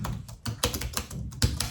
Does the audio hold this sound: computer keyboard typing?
yes